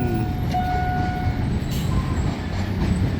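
Alstom locomotive number 4301, pulling an empty train through a level crossing in Thailand, rumbles past as a loud, steady mechanical roar with faint metallic squeals near the start.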